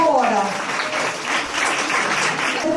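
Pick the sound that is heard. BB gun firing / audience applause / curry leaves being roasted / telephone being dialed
audience applause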